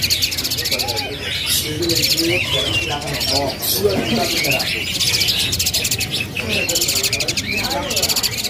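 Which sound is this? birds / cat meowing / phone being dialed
birds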